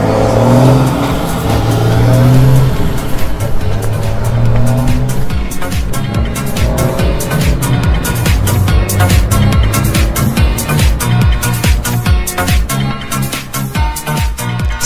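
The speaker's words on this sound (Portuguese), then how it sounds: "Olha lá o carrozinho saindo." A car revs hard and pulls away at a busy fuel station during the potato harvest season, engine roaring loud and close with tire squeal and skidding, the revving rising and falling steadily for about fifteen seconds.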